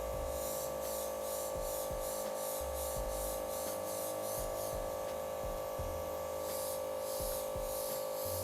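Airbrush spraying icing onto a cake, a steady continuous hiss with a faint underlying hum, sustained and close throughout without pauses.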